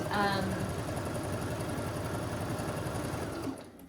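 Sewing machine stitching quilt pieces together, a fast steady mechanical whir running continuously at close range before stopping abruptly at the end.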